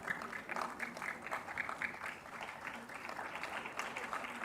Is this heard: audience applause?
yes